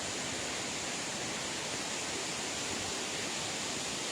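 Steady, dense rush of water from the tufa waterfall and stepped pools at Baume-les-Messieurs, a continuous broadband roar heard close and unbroken with no voices.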